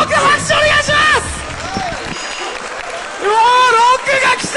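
Audience applause and cheering rise and fall at a Street Fighter III: 3rd Strike tournament in Tohoku, with voices and whoops carrying through the crowd noise, loudest at the start and again near the end.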